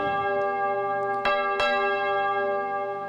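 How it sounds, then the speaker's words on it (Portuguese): A church bell rung by a sacristan rings out with a sustained, ringing tone, struck twice in quick succession and left to resonate, alone with no talk. "eu vou falando, você toca o sino"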